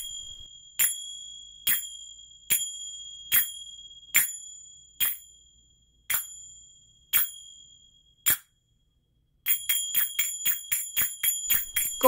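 Zills, metal finger cymbals, struck in a steady spaced rhythm of bright ringing clinks, then a short pause and a faster run of quick strikes, close and alone.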